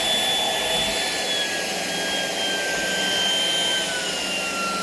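A Shark vacuum cleaner with power detect running across a kitchen floor, giving a steady, loud motor whine that holds through the whole stretch with no voices.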